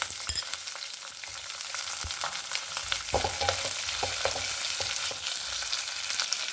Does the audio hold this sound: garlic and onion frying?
yes